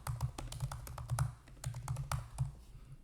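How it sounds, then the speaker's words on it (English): An address is typed on a computer keyboard in a quick, uneven run of crisp key taps, heard up close. A brief pause breaks the run before the clicking resumes, and no one speaks. "So we type in the address here"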